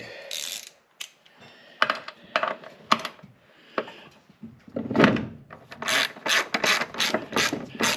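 Ratchet wrench clicking as front strut bolts are tightened on a Subaru Forester, several bursts of rapid close pawl clicks separated by brief pauses, ending in a steady run of evenly spaced ratchet strokes.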